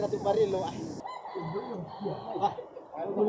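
Chickens cluck and squawk close by in a busy yard at a Toraja Aluk Todolo gathering, with a brief rooster-like call amid background chatter.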